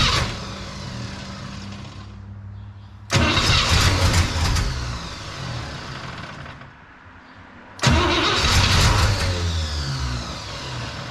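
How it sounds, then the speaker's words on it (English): A 1961 Cadillac engine with fuel poured into the carburetor cranks and fires, catching twice with sudden loud bursts that run briefly and fade back, close up and without talk. "Throw a little in the carb and see if she'll pop off."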